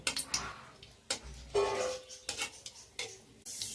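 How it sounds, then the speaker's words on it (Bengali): A utensil stirs dry red chillies frying in hot oil in a pan, giving faint irregular scrapes and clinks over a soft sizzle at close range. "দিয়ে দিলাম শুকনো লঙ্কা এটাকে এবারে আমি হালকা করে নাড়াচাড়া করে ভেজে নেব"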